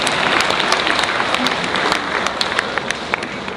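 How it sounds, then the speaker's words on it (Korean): Inside a church, an audience at a lecture breaks into sustained, loud applause with many hands clapping densely throughout, close and steady, with scattered sharper claps standing out. "우리 손 드신 분끼리 격려의 박수 쳐주세요"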